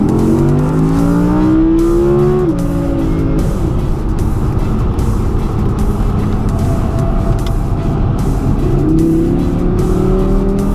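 Audi cars roar around the Circuit of The Americas track, with engines revving through gear shifts and tires squealing, a continuous loud racing din heard from close by.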